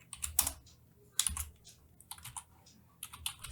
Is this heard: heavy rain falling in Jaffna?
no